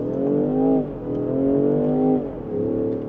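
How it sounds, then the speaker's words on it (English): Engine of a 2025 Range Rover Sport hybrid in manual mode, revving up in two strong, rising surges with a brief dip between, loud and close from inside the cabin, with no talk. "putting it into manual mode, of course the engine will kick on."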